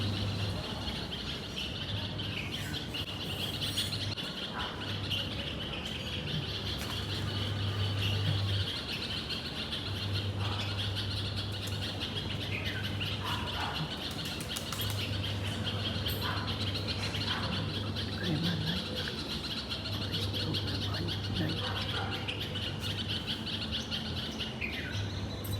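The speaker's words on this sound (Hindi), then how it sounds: "उठते ही इतने प्यारे प्यारे से बर्ड्स के चहचहाने की आवाज़" Birds chirp and tweet softly in the morning, scattered calls over a steady hiss of background noise, with a faint low hum throughout.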